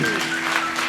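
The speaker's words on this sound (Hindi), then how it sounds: "जोरदार ताली यीशु के लिए" Applause from a church congregation during a worship service in Bathinda, Punjab, a dense wash of clapping filling a brief moment, steady and fairly loud.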